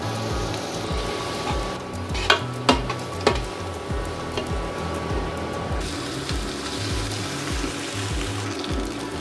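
Onion fries in a pan for a rohu fish curry with peas and spring onion, a continuous close sizzle broken by rhythmic stirring scrapes and a few sharp knocks.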